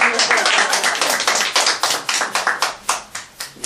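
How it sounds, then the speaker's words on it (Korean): A small group of people claps by hand in a quick run of sharp, close slaps that loosens and thins into scattered, slower claps toward the end. "박수 쳐야 되는 거 아닌가요?"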